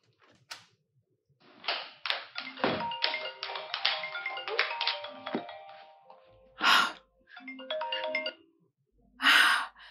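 A mobile phone rings indoors with repeated bursts of a bright electronic tone, broken by brief taps and breaths, then a further short ringing phrase near the end; no speech is heard.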